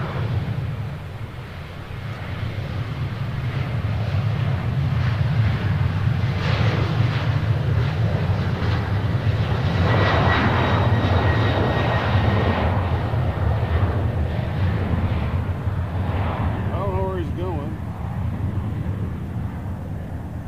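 A big Delta airliner landing at Nashville International Airport, its engines a loud, steady low roar that swells mid-way and holds for the whole stretch, heard outdoors from a spotting position with no talk.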